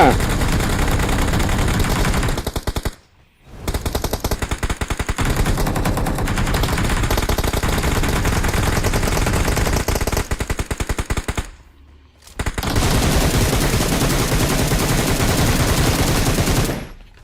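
Continuous rapid automatic gunfire in a multiplayer shooter video game, loud and dense, with two brief pauses before the shooting resumes; faint voices mixed underneath.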